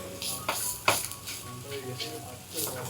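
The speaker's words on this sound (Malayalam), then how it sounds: "ഒരു 10 സെക്കൻഡ് ഒന്ന് ഇളക്കി കൊടുക്കാം" A chicken mixture stirred in a hot pan for an Iftar snack, with scraping strokes and soft sizzling, a few sharper spoon knocks, fairly close and brief.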